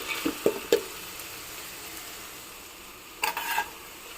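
Avalakki (flattened rice) is stirred with salt in a pan, giving a few soft scraping strokes near the start and another short burst near the end over a faint steady background hiss.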